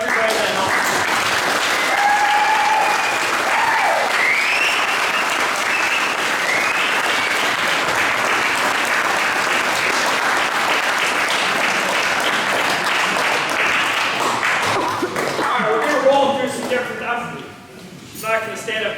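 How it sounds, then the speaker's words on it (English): A crowd at a football banquet gives sustained, dense applause for about fifteen seconds, then the clapping thins out into scattered claps and murmuring voices. "let's just give one big round of applause for everybody that helped."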